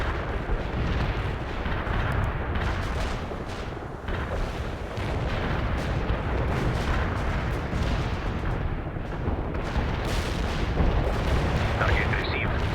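An artillery barrage rumbles in the World in Conflict video game, a dense, continuous roar of overlapping booms and blasts that stays loud throughout, with radio voices mixed in.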